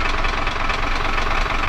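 A diesel engine in a U-boat simulator game runs steadily with its air pipe fully open, giving a loud, continuous knocking drone that holds even throughout without pauses.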